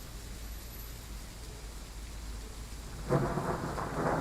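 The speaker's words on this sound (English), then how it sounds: "See what I mean? You gotta hear thunder." Steady rain hisses in the background in the video game Train Sim World 3, then a deep rumble of thunder rolls in loudly toward the end and keeps growling.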